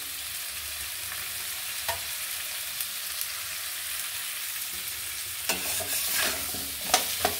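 Red amaranth stalks, mixed vegetables and a hilsa fish head sauté in a pan, a steady soft sizzle with occasional scrapes of stirring, growing busier and louder with sharper clatter toward the end.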